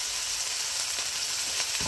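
Tomatoes cooking down in a pot for Afghan Kabuli pulao give a steady, close, even sizzle and hiss with faint stirring clicks near the end, no voices.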